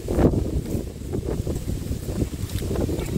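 A cool outdoor breeze beneath a block of flats on a hot day gusts unevenly across the microphone, rumbling and buffeting in low bursts close by, with no talking.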